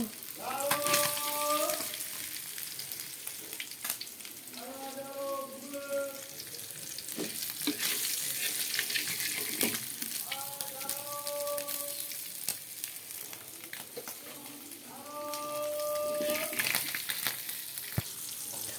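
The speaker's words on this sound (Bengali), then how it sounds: "কড়ার মধ্যে এখন পেঁয়াজগুলো দিয়ে দিয়েছি।" Onions sizzle in oil in a wok, a continuous close frying hiss with scraping stirs scattered through, while a voice speaks in short bursts over it at intervals.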